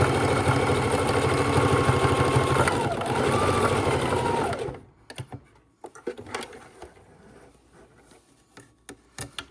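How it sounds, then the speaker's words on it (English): A sewing machine stitches a zigzag at width 6 across the corners of a fabric bowl, whirring loudly and continuously for almost five seconds, then stops. Light handling taps and rustles follow. "We're going to sew them with a zigzag stitch."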